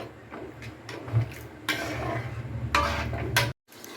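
Almond halwa stirred in a pan produces soft scraping and tapping strokes with a few louder bursts, close and continuous, ending in a brief silence.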